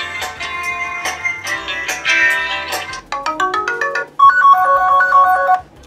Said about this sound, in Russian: вибрация, мелодия вызова.